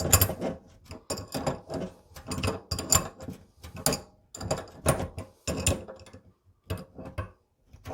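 A hot-water cartridge being tightened into a Waltec kitchen faucet gives off a close run of dense clicking and ratcheting bursts, with short pauses between turns.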